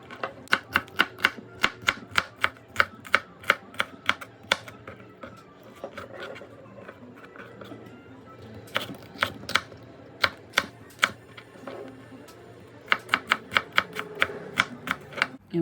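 A knife cuts through a bell pepper on a board, making crisp, rapid, evenly spaced chops in several bursts with short pauses between them, close and fairly loud over a quiet room.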